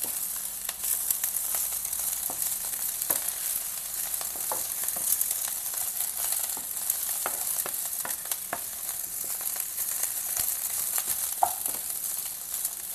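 Fresh coriander frying in a pan for kothmira pachadi, a steady bright sizzle with scattered crackles and pops and the occasional scrape of stirring throughout, no voices.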